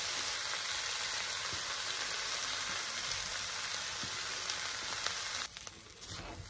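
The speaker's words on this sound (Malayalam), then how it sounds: "കുരിച്ച് വെച്ച ഉള്ളിയും കൂടെ അരി ചെയ്ത് കൊടുക്കാം." Pressure-cooked jackfruit with fried onions sizzles in a pan as a steady, close hiss. The hiss drops suddenly near the end, leaving a few soft stirring sounds.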